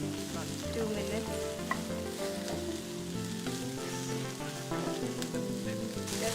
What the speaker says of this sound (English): Add the capsicum and the carrots together. This will cook together.